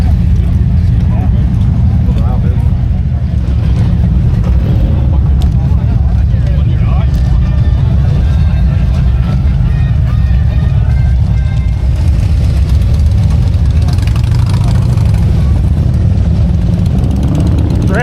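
A motorcycle engine idles at the Port Dover Friday the 13th motorcycle rally, a steady low rumble among other bikes. Loud, continuous engine noise runs throughout while people talk nearby.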